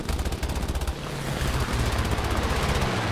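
Rapid machine gun fire from a KI-27 fighter plane in a combat flight game, dense continuous rattling bursts over a low engine drone, loud and close.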